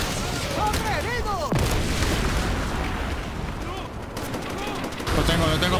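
Enemy machine gun fire in the WWII shooter Call of Duty: World at War, rapid bursts and booming shots mixed with explosions and shouting soldiers, loud and continuous across the scene.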